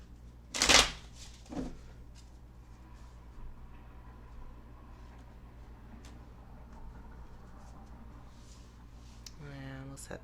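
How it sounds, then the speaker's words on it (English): A sharp burst of a tarot card deck being shuffled and riffled near the start, followed by quieter handling noises and a brief rattling riffle at the end. "we'll shuffle this deck just a few more times here"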